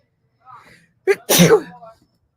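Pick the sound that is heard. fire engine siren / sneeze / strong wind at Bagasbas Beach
sneeze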